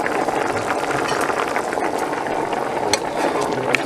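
Spelt grain with spices boiling in a pot, a close, steady bubbling and popping with crackly texture, continuous and fairly loud throughout.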